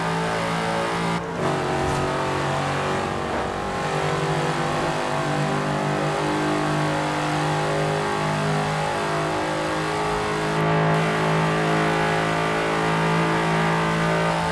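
Car engine in the racing game Forza Horizon 2 holding a loud, steady mid-pitched drone with shifting revs and gear changes, close and continuous throughout with no talk over it.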